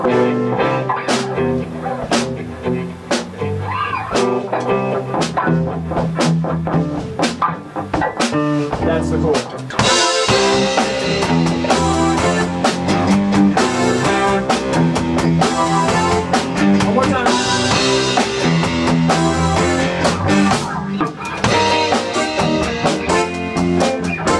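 Two-string guitar power chords driving through a loud, dense rock track, chugging steadily with a fuller section kicking in partway through.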